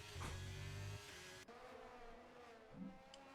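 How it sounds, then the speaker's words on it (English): F1 cars race by in a video game at the Qatar circuit, their engines a steady buzzing whine with a brief passing surge, heard faintly and without talk. "So you can hear the cars racing through."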